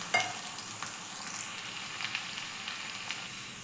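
Chopped garlic fries in hot coconut oil, giving a soft, steady sizzle with light crackles and a few stirring scrapes, close by and quiet.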